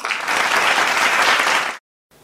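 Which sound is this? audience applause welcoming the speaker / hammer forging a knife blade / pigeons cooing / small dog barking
audience applause welcoming the speaker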